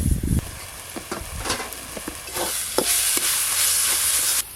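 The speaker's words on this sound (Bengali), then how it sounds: "এইভাবে নাড়তে নাড়তে লাউ পাতার জলটা পুরোটাই শুকিয়ে নেব" Bottle gourd leaf paste is stirred in a hot pan as it dries, giving a steady frying sizzle with repeated scraping strokes of a spatula, close and moderately loud throughout.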